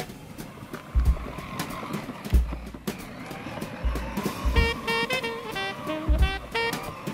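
A kid's Power Wheels toy Mack truck drives with a rough electric whine and rumble, with repeated low thumps and bursts of bright, tonal motor noise, close and moderately loud.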